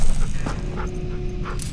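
A dog in the video game The Walking Dead whimpers and yips softly, with breathy panting mixed into a low game background.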